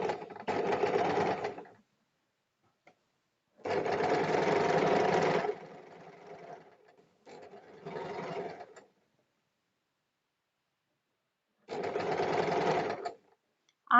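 Sewing machine running in bursts as it stitches a folded strip along the edge of a nightgown, four separate runs of whirring with pauses between, fairly close and with no talking over it.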